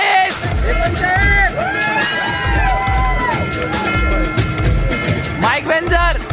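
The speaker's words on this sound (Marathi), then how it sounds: "विजेत्यांसाठी जोरदार टाळ्या वाजवा." A crowd at a bodybuilding and men's physique competition claps and cheers for the winners, a loud dense mix of clapping, whoops and shouted voices, with an announcer's amplified voice weaving through it.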